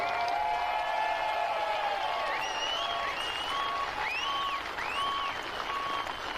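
Sustained crowd applause for veterans at a charity tractor pull in Hillsboro, Wisconsin, continuous and fairly distant, with whistles and cheers rising over the clapping.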